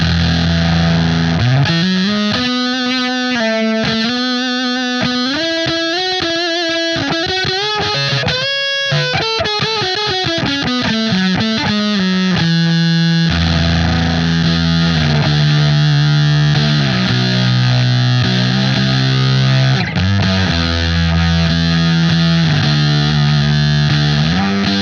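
Electric guitar through a BOSS FZ-1W fuzz pedal turned full up, dense and saturated with sustained buzzing distortion. Steady loud chords and sliding notes play continuously, with no pauses.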